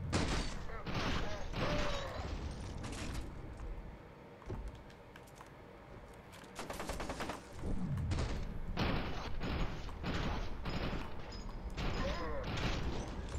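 Bursts of gunfire in F.E.A.R. 2 inside a hospital, rapid clustered shots that come in several loud volleys with brief lulls between, with voices talking at points.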